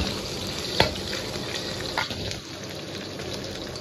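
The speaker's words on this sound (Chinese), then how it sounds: "炒出油来" Pork belly frying in oil in a wok, a faint continuous sizzle with a couple of sharp clinks and stirring scrapes.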